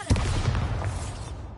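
A Bombarda explosion spell detonates in a Hogwarts video game, a brief heavy blast with crackling bursts that quickly fade into a rumbling tail.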